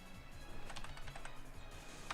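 Rapid clicking of keys or buttons while playing a Pokémon video game, a quick close run of taps over a low background hum.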